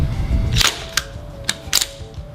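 A GHK Steyr AUG airsoft replica fired in semi-auto on a cool outdoor range, with a few sharp, separate cracking shots spaced apart against a quiet background.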